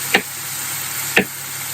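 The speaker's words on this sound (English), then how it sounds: "I'm just chopping up some mushrooms." A knife chops mushrooms on a board in a home kitchen, two sharp, isolated cuts about a second apart over a quiet background hum.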